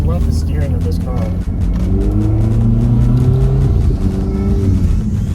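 A 2018 Volvo V60 Polestar pulls hard under acceleration, its engine rumbling steadily and loudly with rising revs throughout, a voice speaking over it.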